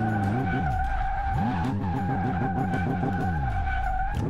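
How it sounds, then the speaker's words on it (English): Tires squeal and skid continuously as a 1927 Bentley Blower 4 drifts in Car Mechanic Simulator 2018, the engine droning underneath with steady wavering screeches, loud and close throughout. "We're drifting with the Bentley."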